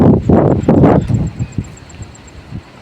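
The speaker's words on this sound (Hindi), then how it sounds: "बहुत अच्छी हवा चल रही है इधर" Outdoor wind near a river buffets the microphone in heavy low gusts for the first second, then settles into softer intermittent puffs and rustle.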